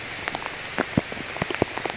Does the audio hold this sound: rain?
yes